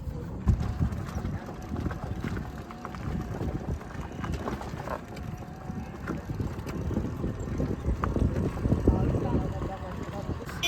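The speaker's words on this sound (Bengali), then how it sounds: "এখন আমরা এই যে ভটভটি ইলেকট্রিক যে ভ্যানগুলো হয়, তো সেই ভ্যানগুলোর মধ্যে এখন আমরা বসে এখন আমরা যাচ্ছি" Riding in a battery-powered electric passenger van (bhotbhoti) on a rural road, with continuous rumbling, rattling and wind buffeting close to the microphone; people talk intermittently over the ride noise.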